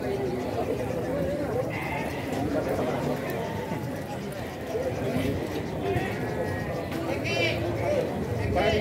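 Garut sheep bleat now and then at a busy livestock market, under steady crowd chatter and close talking, with hooves and movement in the background.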